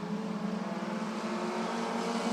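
Race cars competing at Rockford Speedway, a continuous droning engine roar that holds steady at a moderate distance, with no commentary heard over it.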